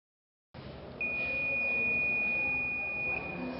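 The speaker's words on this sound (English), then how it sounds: "now as we hit that buzzer, it means there's a continuity through it." A multimeter set to continuity mode gives a steady, loud electronic buzzer beep that sounds for about two seconds, alone over a low background hum.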